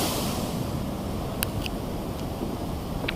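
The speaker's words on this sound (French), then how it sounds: "Sont cela les vagues qui ont englouti cette civilisation?" Sea waves off Gozo wash and churn in a continuous noisy roar, with wind and a few faint splashes, heard close and without any voices.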